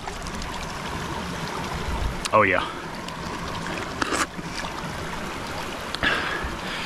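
Ice-melt water trickles in a stream near an abandoned mining town in Alaska, a steady wet rush under a man's brief speech, with a few splashy bursts.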